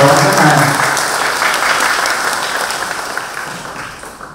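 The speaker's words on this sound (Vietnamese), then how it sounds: "Xin cộng đoàn chúng ta dành một tràng pháo tay thật dài để chào đón khách hàng." A church congregation at a thanksgiving Mass claps to welcome guests, a long burst of applause that starts full and gradually fades away over a few seconds.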